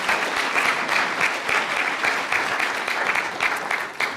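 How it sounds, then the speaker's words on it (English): Panel discussion audience breaks into a big round of applause, many people clapping steadily and fairly close for several seconds without a break. "I just want to give everybody an opportunity to give them a big round of applause"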